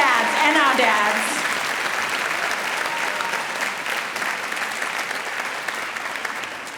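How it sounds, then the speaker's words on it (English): A commencement ceremony crowd at the American University of Paris in 2022 breaks into loud, dense applause that holds steady, with a few voices cheering near the start. "I want you to give our moms a hefty, loud round of applause."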